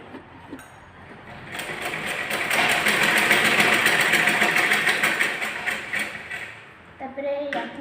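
Sewing machine stitching a blouse, a continuous mechanical whirr that builds and holds for several seconds, then stops briefly before starting again, close by.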